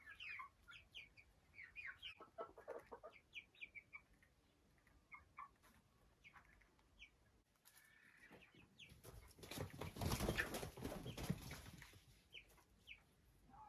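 Araucana chicks in a greenhouse coop divided by netting cluck and peep in scattered short calls, fairly near, with a louder rustling, flapping burst partway through.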